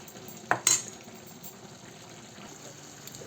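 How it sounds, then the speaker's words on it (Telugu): Turmeric and cumin-fenugreek powder are stirred into a cooking tomato-ginger pachadi: a couple of quick utensil clinks and scrapes near the start, then a faint, quiet simmer. "కొద్దిగా పసుపు, జీలకర్ర మెంతుల పౌడర్. దీన్ని మనం బాగా కలుపుకోవాలి."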